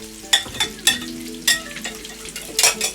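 Gluten-free chicken pieces fry in hot oil, with a steady sizzle and bursts of crackling spitting as each piece is set down, recurring every second or so. There is no talking.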